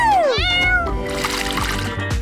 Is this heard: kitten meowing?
yes